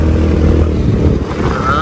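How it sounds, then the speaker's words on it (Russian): A moped rides along a bumpy dirt path across a field, its engine a loud close buzzing drone that rises slightly in pitch near the end. "Зачем мне ехать там, если я на мопеде могу вот здесь спокойно объехать, да и все."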